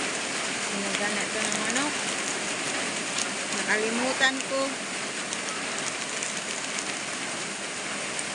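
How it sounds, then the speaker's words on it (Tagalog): Heavy rain pours down on a farm with chickens, a dense steady hiss throughout, while someone speaks briefly over it and a few faint bird calls poke through. "Grabing ulan dito"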